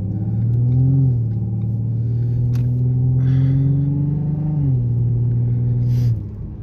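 A 3.7 V6 Mustang on a PR-X tune accelerates hard, its engine a loud, close rumble climbing steadily through the gears with brief dips at the shifts, then cutting off abruptly at the end.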